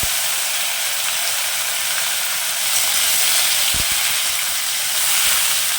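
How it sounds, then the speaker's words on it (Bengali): Cashews and raisins fry in a pan over low heat for a Basanti pulao, giving a steady, close hiss and sizzle that runs evenly throughout with no voices. "কাজু কিশমিশটা হালকা করে ভেজে নেব।"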